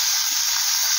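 Minced pork sizzles in a pan over low heat, a steady close hiss of frying fat with no talk over it.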